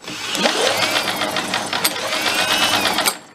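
An antique military engine runs at high revs with a steady buzzing, rattling drone, loud and close, holding for about three seconds before cutting off abruptly.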